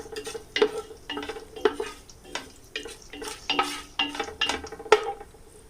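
Whole spices stirred around in hot oil in a pan for chicken biryani, with a faint sizzle under a run of close spoon scrapes and clinks that come every half second or so. No one speaks.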